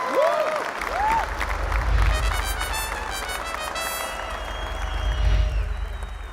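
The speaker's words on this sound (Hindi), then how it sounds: "पाकिस्तान फातिमा के लिए तालियां बजाएं।" Crowd applause and cheering at a celebrity cricket league match, a broad clapping roar with surges and low thumps, mixed with a commentator's voice and scattered bright tones throughout.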